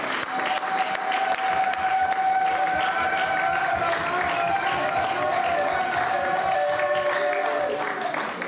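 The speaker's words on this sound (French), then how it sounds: "Alors, si tu es vivant, est-ce que tu peux acclamer le Seigneur?" A church congregation claps and cheers in praise, sustained loud applause from a large crowd with mingled shouts and a held tone running underneath.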